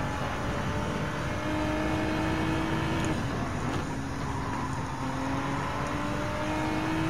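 A race car engine in Gran Turismo 7 drones steadily and loudly through a one-lap time attack at Circuit of the Americas, its pitch shifting slightly as it accelerates through the final sector.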